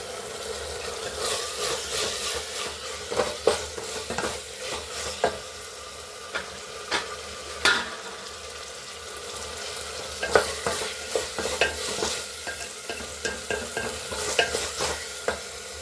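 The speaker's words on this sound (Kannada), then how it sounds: "ಸ್ವಲ್ಪ ಗ್ಯಾಸ್ ಹಚ್ಬಿಟ್ಟು ಇದನ್ನು ಕೊತ್ತಂಬರಿ ಸ್ವಲ್ಪ ಹಾಕಿ ತಿರುಗಿಸ್ಬಿಡ್ತೀನಿ" Coriander stirred and frying in a pan on a gas stove: a continuous sizzle with repeated scraping and clinking stirring strokes, close and fairly loud, with no talking.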